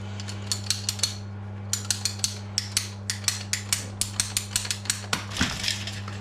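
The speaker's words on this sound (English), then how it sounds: "So I'm going to use pipe cutters." Pipe cutters work on a water pipe during a house renovation, producing a series of sharp, close metallic clicks and ratcheting snaps at a steady rhythm over a constant low electrical hum, ending in a brief scraping rustle.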